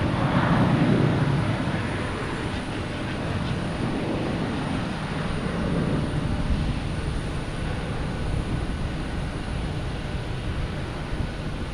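An American Airlines Airbus A321 departs runway 15 right at Boston Logan, a broad jet engine roar swelling early and then holding as a steady distant rumble, with no talk.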